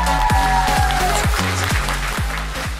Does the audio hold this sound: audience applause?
yes